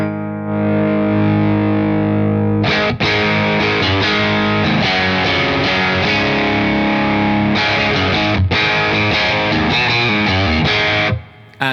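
Electric guitar runs through a Crazy Tube Circuits Space Charged V2 pedal with the gain turned up, giving loud distorted chords and riffs that ring out and sustain, with a few sharp attacks, playing alone without any talk.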